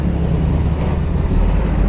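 Heavy garbage trucks rumble past on an alternative road to the Bantar Gebang landfill, a steady, loud low roar of big diesel vehicles with no talk over it.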